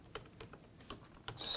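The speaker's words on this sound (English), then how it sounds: "Let's actually start typing some in." Quick light keystrokes on a computer keyboard while entering tags in Siemens automation software, several irregular clicks, quiet and close, with no voices.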